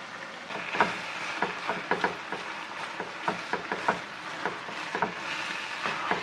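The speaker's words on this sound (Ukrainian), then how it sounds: "Перемішаємо" Cooked millet stirred into thick Ukrainian cabbage soup (kapusniak) in a pot, a close run of repeated scraping knocks and wet sloshing strokes at an even, unhurried rhythm, with no talk.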